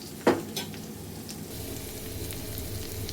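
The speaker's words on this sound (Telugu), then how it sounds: "జొన్న పిండి వేయిస్తున్నాను." Jowar flour roasting in a pan for pumpkin jowar soup, a steady soft sizzle and scraping with a sharp spoon knock near the start, close and continuous, no talk.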